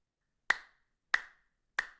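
Three dry hand claps, recorded alone with no effects for a game soundtrack, evenly spaced and close, each a sharp crack with a short decay into silence.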